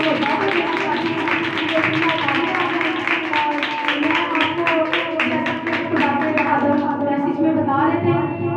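Congregation at a Sunday morning church meeting in Pakistan applauds in a steady, dense patter of claps throughout, with voices and other sound mixed in underneath.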